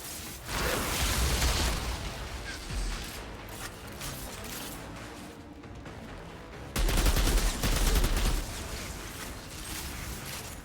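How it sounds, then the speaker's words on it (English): Mortar bombs exploding in a modded Valheim fight, two loud bursts of heavy blasts and crackling debris separated by a quieter stretch of rumbling aftermath. "Somebody's getting mortar bombs on there from like outside the area."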